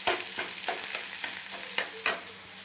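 Vegetables fry in a hot pan as a spatula stirs them, with steady sizzling broken by sharp scraping strokes at irregular intervals, close and alone.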